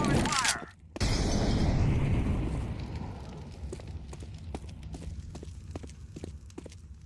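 An incendiary grenade in Counter-Strike 2 shatters with a sharp burst near the start, then a loud roaring crackle of flames dies down over several seconds, with scattered footsteps and small clicks in the background.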